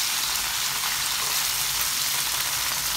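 Chicken pieces for kung pao chicken frying in a pan, giving a dense, even crackling sizzle that holds steady throughout, close and fairly loud.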